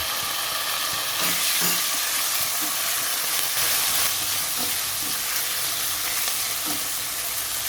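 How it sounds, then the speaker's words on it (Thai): Loud, steady sizzling fills the air as marinated pork stir-fries in a hot wok, with occasional scrapes of a spatula stirring. Close, continuous, no clear speech. "แล้วก็ตามด้วยหมูที่เราหมักไว้เนี่ยครับ ลงไปผัดได้เลย"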